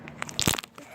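Homemade unicorn crunch slime, a two-ingredient slime, being squeezed at close range: one brief, sharp crunching burst in a quiet room.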